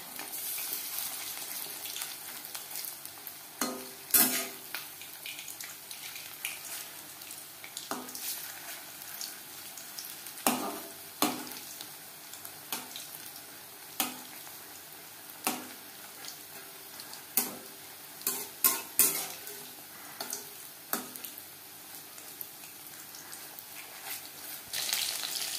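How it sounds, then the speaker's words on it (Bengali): Breaded chicken chops shallow fry in oil on a medium flame, a soft steady sizzle broken by frequent sharp pops and occasional utensil clicks, with no voices. "ভাজবো মিডিয়াম ফ্লেমে। একটা সাইড ভাজা হয়ে গেলে অপর সাইডটা উল্টে দেবো।"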